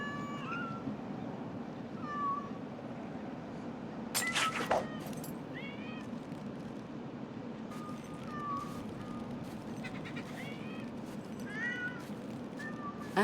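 Cats in the Batman Arkham City video game meow in short, repeated calls over a steady background hum, with a brief louder burst near the middle and more meows near the end.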